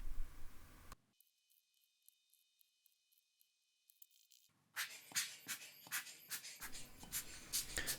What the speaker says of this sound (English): And now let's screw all the screws back again.